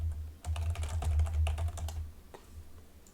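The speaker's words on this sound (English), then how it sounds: "Let's type in alliance balance." Quick bursts of clicky keystrokes on a computer keyboard, close and distinct with a low hum underneath, tapering off to a few isolated taps at the end.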